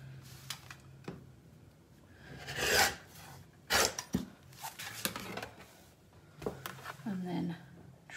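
Fabric is trimmed to size for a sewn shopping basket. Several short, scratchy cutting strokes come in irregular bursts, close and fairly quiet, with a voice talking intermittently between them.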